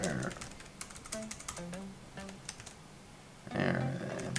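Close, quick clicks of keys on a computer keyboard, typed in short irregular bursts, with a voice speaking at the start and end.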